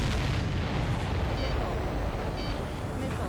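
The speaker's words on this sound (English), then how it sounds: "Did you see that explosion?" A dense, rumbling roar fills the clip, a sustained explosive blast in the video game Ace Combat 7 with heavy low booms and crackling debris, loud and continuous.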